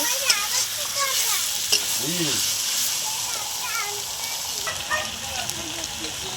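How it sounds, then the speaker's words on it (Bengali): Chicken is stirred and fried in a pan for a chicken rezala, a steady close sizzle with scraping strokes of a spatula, heard under a voice speaking. "এটা ভালো করে কষিয়ে নিতে হবে, আর একটু ভালো করে কষিয়ে নেব।"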